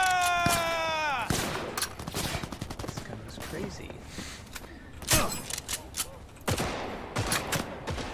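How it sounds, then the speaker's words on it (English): Gunfire in the game Cyberpunk 2077: a burst of rapid shots follows a falling electronic whine, then scattered bursts and single cracks from an ongoing firefight, loud and close. "Are they shooting each other now?"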